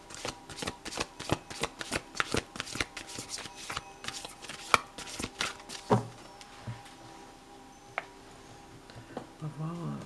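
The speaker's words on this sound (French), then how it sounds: "je vais aussi mélanger les cartes, pourquoi pas, et prendre une carte au hasard." A deck of oracle cards is shuffled by hand in quick, repeated riffling bursts with crisp snaps and taps. A few brief pauses break it up, and a faint voice can be heard in the background.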